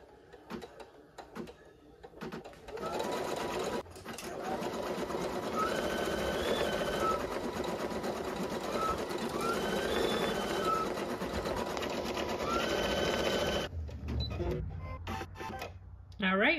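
An embroidery sewing machine stitches an in-the-hoop school bus snap tab, with a fast steady mechanical whirr and rapid needle clatter that carries on for over ten seconds, beeping tones rising above it, after a few quiet clicks at the start.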